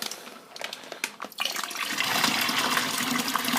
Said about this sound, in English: basically rinsing out the inside of the bag.